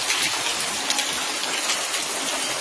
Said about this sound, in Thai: ฝนตกฝนตก น้ำฝนนี่ น้ำฝน ฝนตก